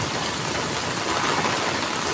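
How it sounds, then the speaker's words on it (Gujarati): Heavy rain comes down in Surat as a dense, steady hiss, continuous and fairly loud, with no talking. "સુરતમાં બહુ વરસાદ છે આજે."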